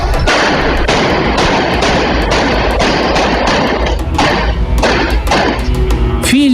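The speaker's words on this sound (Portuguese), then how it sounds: "Em outra imagem é possível ver a van sendo perseguida em outra rua, quando começa a troca de tiros." Rapid exchange of gunfire during a street chase of a van in São Paulo, loud dense bursts of shots and thuds running continuously throughout.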